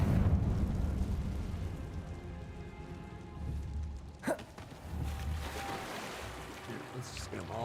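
A Confringo blasting spell in the video game Hogwarts Legacy goes off as a single sharp explosive burst midway through, set against rumbling, rain-like background noise.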